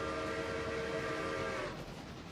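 A passenger train runs in the railroad video game Railroader, a sustained rumbling drone with a tonal whistle-like hum that fades near the end, no voices.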